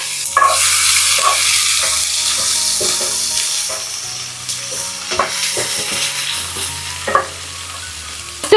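Long-sliced small shallots fry with fennel seeds in hot oil, a steady close sizzle broken by repeated scraping stirs of a spoon.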